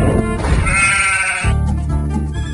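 Sheep bleating loudly in a paddock beside a large radio telescope dish in rural Australia, one drawn-out close bleat followed by more animal calls.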